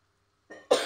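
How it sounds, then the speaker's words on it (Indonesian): A single close, sharp cough, preceded by a short breathy throat sound, in an otherwise quiet kitchen. "Batuk teman-teman."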